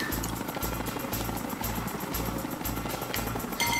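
Helicopter in the video game Ty the Tasmanian Tiger 2, its rotor thumping in a steady fast rhythm with a loud, continuous engine whine, close and constant throughout.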